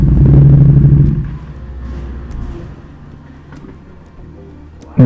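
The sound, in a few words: Ducati Panigale V2 motorcycle rolling onto the dyno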